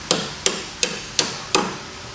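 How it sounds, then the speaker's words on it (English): Five sharp hammer taps, evenly spaced about a third of a second apart, ring out close and loud while suspension parts are knocked into place during a rear suspension rebuild on an Acura Integra or Honda Civic. "you may have to tap them into place with a hammer"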